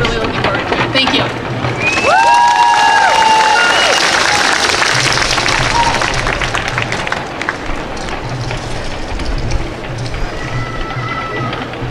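A festival audience at a cherry blossom event applauds steadily after a Yosakoi dance team performs, a continuous wash of clapping with a few short cheers and whistles.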